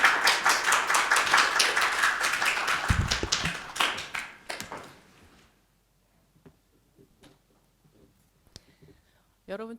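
A congregation at a staff worship service claps to welcome the pastor, loud scattered clapping that thins out and fades after about five seconds, followed by near silence with faint rustles and a brief voice at the end.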